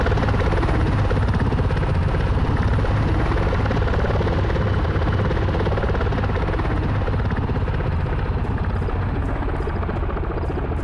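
A video game helicopter in Sea Power flies off, its steady, loud rotor roar and engine whine filling the whole stretch, holding constant without pause.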